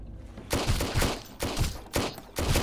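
Gunfire during a pirate attack in Sunkenland, four sharp bursts of rapid shots spaced about half a second apart, moderately loud and close, with no talking.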